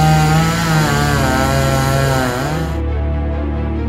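A loud, steady mechanical chainsaw-like buzz from a Spirit Halloween 2023 Leatherface animatronic's chainsaw arm, a droning motor tone that holds throughout, dipping slightly in pitch near the end.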